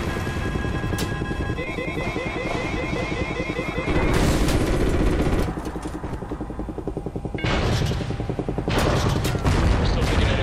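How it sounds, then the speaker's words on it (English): Enemy anti-aircraft fire in Call of Duty Ghosts, Birds of Prey mission: a dense, continuous fusillade of rapid gunfire and heavy booms over a rumbling engine drone, loud and close throughout with bursts swelling and easing. "We're still taking enemy AA fire from behind the smokestacks."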